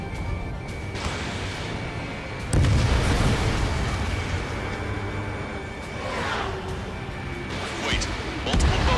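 Artillery fire and explosions in Ace Combat 7 boom out in heavy, loud bursts over constant battle rumble, with a big blast near the middle and another at the end, while radio voices talk over the combat.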